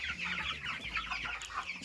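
About thirty young broiler chicks kept for meat, raised to around six weeks, cheeping and clucking continuously as a dense, busy flock, steady and fairly close with no pauses.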